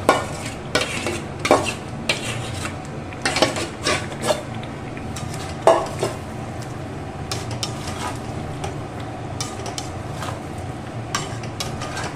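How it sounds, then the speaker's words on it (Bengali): Marinated chicken added to fried masala in a pan, with a low ongoing sizzle broken by repeated clanks and scrapes of a spoon stirring against the metal, close and moderately loud. "এবার আমি এর মধ্যে যে ম্যারিনেট করা চিকেনটা রেখেছিলাম সেই চিকেনটা দিয়ে দেব"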